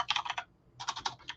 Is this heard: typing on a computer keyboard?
yes